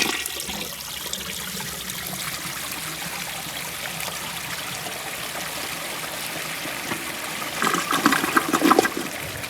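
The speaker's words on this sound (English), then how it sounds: "So let me give it a flush when it's filled up to its normal water level." A 1980 Eljer Emblem toilet, its tank filled to the normal water line, flushes with a steady rushing, gurgling wash of water that swells louder near the end as the bowl siphons, with no talking.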